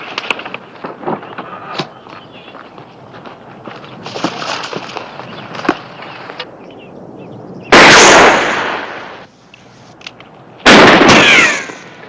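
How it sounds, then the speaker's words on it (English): Two sharp, loud rifle shots ring out in a western TV series with a cowboy setting, each followed by a long ringing decay, after a stretch of quieter rustling and movement. "Hold your fire, Bert."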